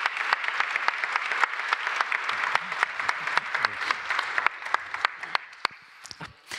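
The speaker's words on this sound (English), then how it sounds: "I think we should give this excellent panel a really warm round of applause." Warm, sustained applause from an audience for a panel at a 2024 science summit on the ESS and MAX IV facilities: dense, steady clapping that thins into a few scattered claps near the end.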